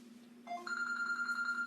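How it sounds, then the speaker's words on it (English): A phone ringtone goes off partway through, a rising electronic melody of steady sustained tones starting after a low constant hum, fairly close and clear with no talking. "someone's phone went off"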